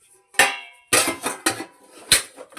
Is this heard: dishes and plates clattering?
yes